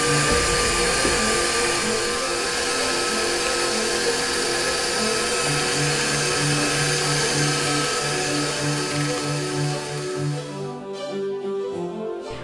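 An electric mixer whirs steadily, beating eggs one at a time into a mango upside down cake batter. The loud, even motor hum holds for about ten seconds and then cuts off near the end.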